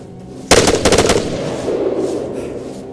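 Rapid automatic machine gun fire in the Arma 3 military game: a loud burst of about eight close, fast shots, followed by a fading reverberant tail, with no speech.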